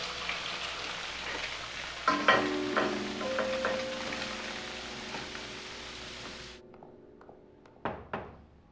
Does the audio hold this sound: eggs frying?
yes